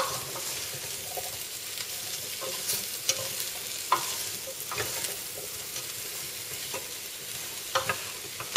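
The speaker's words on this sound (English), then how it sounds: "So I'm just going to give it a good stir and give it a coating of all the flavours that are in this" Pumpkin soup ingredients sizzle steadily in a hot pan while a spoon stirs them, with scraping and light clinks over a continuous frying hiss, close by and with no talk.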